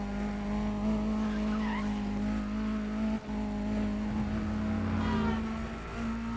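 A race car engine in the video game Need for Speed: Undercover drones steadily while tires squeal and skid, a continuous soundscape with rising and falling pitch.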